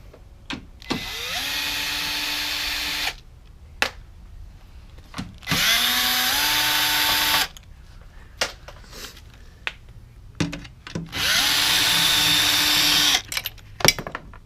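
A power drill with a 9/32 bit backs out 7mm headlight bolts on a fifth-generation Camaro. Three loud, close bursts of whirring, each about two seconds long, are separated by quieter clicks and handling noise.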